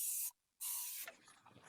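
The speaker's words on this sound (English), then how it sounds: "spray it down with this Dawn Power Wash" Dawn Power Wash degreaser sprays onto the greasy metal of an Oklahoma Joe's Bronco drum smoker in two close, loud hissing bursts with a short pause between, then faint dripping and rattling.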